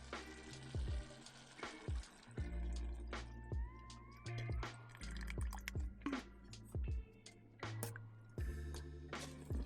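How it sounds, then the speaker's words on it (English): Water poured into a cooking pot of onions and vegetables on a stove inside a heated tent during winter camping at -15°C, heard as close, faint trickling and dripping splashes with a few light knocks of the pot. "Alright, now we just gotta add some water."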